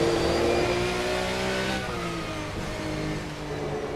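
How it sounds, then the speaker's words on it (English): A Porsche GT3 race car in the driving sim Assetto Corsa on the Nordschleife revs hard, the engine note climbing then easing off as it pulls away, loud and alone. "give you a sample of the sounds of this beautiful Porsche"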